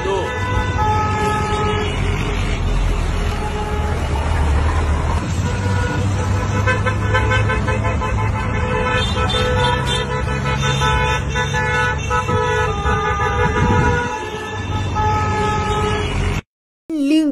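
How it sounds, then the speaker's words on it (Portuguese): Many car horns honk continuously and overlap in a dense, loud blare during a political protest convoy on a highway in Salvador, Bahia, with engines rumbling beneath and voices shouting in the mix. "um carro atrás do outro buzinando pelo fora Lula"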